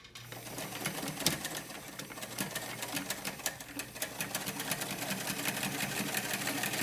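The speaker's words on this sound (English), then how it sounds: "I'm going to start by back stitching." Sewing machine running steadily while back stitching a narrow seam at the edge of waterproof fabric, a close, continuous rapid mechanical chatter with repeated needle ticks throughout.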